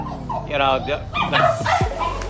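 Dogs picked up from the street, kept at a village house in China, yip, bark and whimper in short bursts close by, mixed in with people talking.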